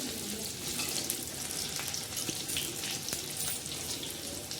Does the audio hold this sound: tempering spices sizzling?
yes